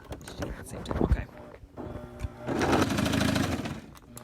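A sewing machine stitches elastic into fabric in short bursts, a close rapid whirring run that starts and stops, with a person talking in between and around it.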